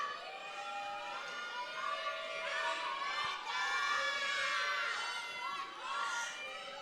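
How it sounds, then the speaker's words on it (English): A crowd at a beauty pageant screams and cheers continuously in a large venue, with shrill, high-pitched shrieks that swell and fade, heard at a moderate distance. "You're not screaming loud enough. I can't hear a single name."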